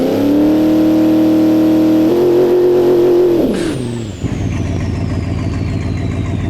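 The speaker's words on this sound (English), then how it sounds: "You hear how loud it does rev up on the trans brake." A Dodge Dakota R/T engine held on the trans brake at a drag race revs loud and steady, climbs to a higher pitch and then drops back to a rough, lumpy idle.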